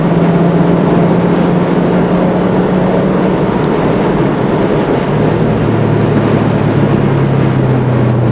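Subaru GC8 racing around the Dijon-Prenois circuit, loud sustained engine drone heard from inside the car with a steady pitch that drops slightly toward the end.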